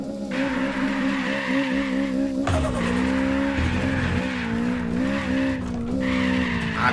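Turbocharged Toyota Trueno AE86 drifting in the racing video game Apex Point, tires squealing over a steady droning engine note, with a shifting skid pitch throughout.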